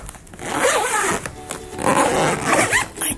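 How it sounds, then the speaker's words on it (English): A zipper is pulled along a packed suitcase stuffed with shoes, giving a continuous rasping zip with short pauses and tugs over about three seconds, close and fairly loud. "So we gotta zip this up."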